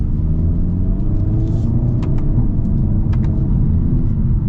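A 2024 Hyundai Elantra N with a dual-clutch transmission drives in full manual mode, its engine a steady loud rumble heard from inside the cabin, with a few faint clicks over the drone.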